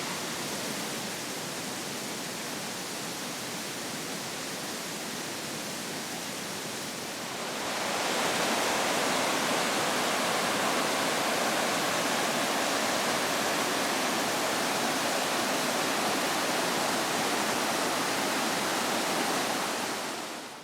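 A river flowing beside open ground in the Creuse, France, a steady broadband rush of water heard close, which grows noticeably louder and fuller partway through and then holds constant; no voices.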